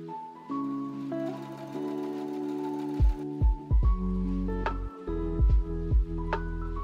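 A sewing machine stitches red dress bodice pieces together, its motor running in short uneven bursts that start and stop through the second half, under steady background music.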